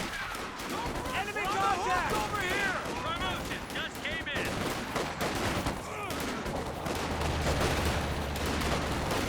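Dense, continuous battle gunfire in Company of Heroes 2, with machine gun bursts, rifle shots and heavier blasts layered throughout, under a commentator's fast speech.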